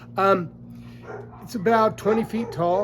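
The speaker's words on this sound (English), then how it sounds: "Pardon the dogs. Once they hear you talking, they got to get into the video" Several dogs bark and yip in repeated bursts close by, overlapping a person's speech throughout.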